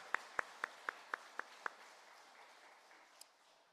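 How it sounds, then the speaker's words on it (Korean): A church congregation claps in unison during a Sunday service, giving seven sharp, evenly spaced claps that stop after about two seconds, followed by a quiet room with faint murmuring and one more soft clap. "우리 박수로 올려드리겠습니다"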